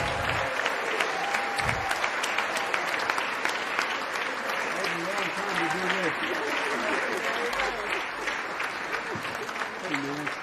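Sustained, dense applause fills a large hall before an address to members of Congress, loud and steady throughout, with faint voices beneath it.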